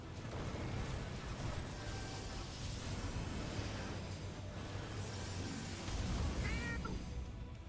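A cat meows faintly in a room during a gaming session, a few short meows standing out over a continuous busy background of game noise and gunfire-like bursts.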